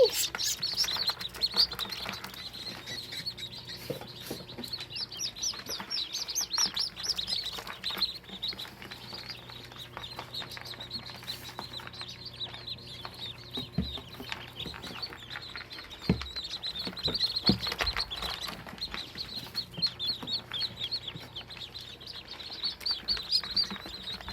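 Tiny high-pitched peeps and chirps from very young call ducklings repeat constantly at close range, with faint rustling and a low background hum.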